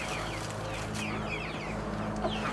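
Five laying hens penned with meat birds on a small farm, clucking and chirping continuously over a steady low background hum, near and moderately loud.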